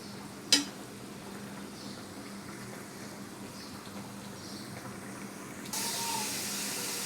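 Beef sizzles and simmers in a pot with its own water, cooking before spices go in, making a continuous close hiss and bubble. A sharp clank sounds near the start, and the hiss swells louder toward the end.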